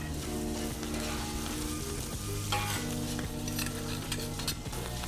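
Garlic and potatoes sizzle steadily in a pan for smashed salt potatoes, with a continuous close frying hiss and occasional soft knocks of a utensil stirring.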